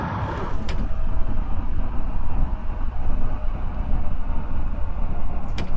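Train approaching in the BVE5 train simulator game on an airport express run, a loud steady rumble of wheels and motor with two sharp high clicks, heard alone without talk.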